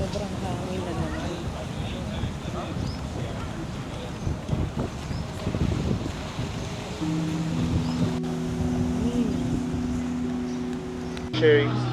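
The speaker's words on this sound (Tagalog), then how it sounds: "Sobrang hangin na naman." Strong wind buffets the microphone outdoors, a steady rushing roar with gusts, while people talk nearby and a low engine-like hum joins partway through.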